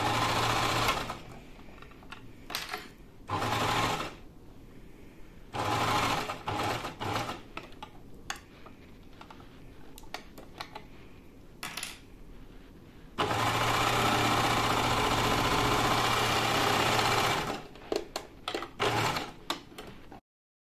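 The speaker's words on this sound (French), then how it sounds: "Alors, on va venir coudre." A sewing machine stitches the collar of a top in repeated bursts of rapid mechanical whirring, separated by brief pauses, with one long sustained run near the end. It is close and clear, with no talking.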